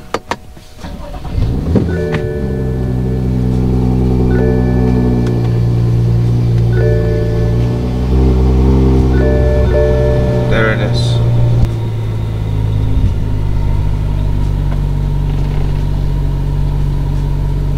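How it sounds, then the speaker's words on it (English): A BMW engine cranks and catches after a few clicks, then settles into a steady idle with a low hum and faint chimes and electronic tones, running on alone. "I'm gonna start the car."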